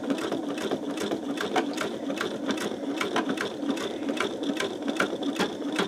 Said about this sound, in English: I'm going to go ahead and leave it at this speed for right now so you can see what the real-time stitching is